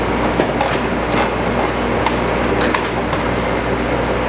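A surface grinder runs spark-out passes, giving a continuous loud mechanical drone with faint recurring scrapes and ticks as the wheel sweeps across the workpiece.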